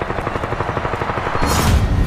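Rapid bursts of automatic gunfire from soldiers during a Mexican Navy raid on a cartel compound rattle in a steady rhythm, then a louder burst of shots, close and harsh.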